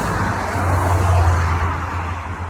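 Steady road traffic fills the outdoor air as a continuous, fairly loud rumble that swells slightly midway, as vehicles pass nearby, with no voices over it.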